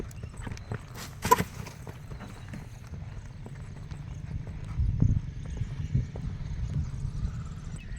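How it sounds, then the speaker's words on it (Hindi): Hooves of a horse carrying a rider toward a first jump in a riding arena, a steady clip-clop of footfalls rising near the end of the stretch, with one brief louder knock partway through. "तो फर्स्ट जंप के ऊपर आ रहा है घोड़ा और राइडर।"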